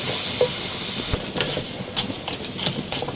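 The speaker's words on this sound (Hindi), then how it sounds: "यहाँ पे हम इसको भून लेंगे कि हमारी दही भी इसमें मेल्ट हो जाए।" Spice masala frying with frozen yogurt in a pan: a constant close sizzle and hiss, broken by light clicks and scrapes of stirring, with no voices.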